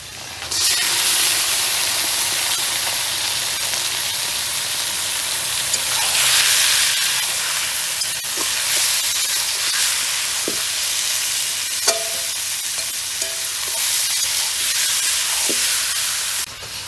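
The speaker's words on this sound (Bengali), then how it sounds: "কাঁচা মরিচটা ভাজা হয়ে গেছে এখন মাংসটা দিয়ে দেবো" Green chilies and mutton sizzle in hot oil in a home kitchen, a dense, steady hiss of frying running nearby and loud for the whole stretch, with a few faint clinks of utensils and no voices.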